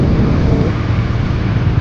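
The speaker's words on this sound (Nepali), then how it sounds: "पोखराको हावा खान आएको शीतल शीतल छ चिसो हावा" Cool wind blowing in Pokhara, Nepal: a steady, loud broadband rush buffeting the microphone throughout, with no voices.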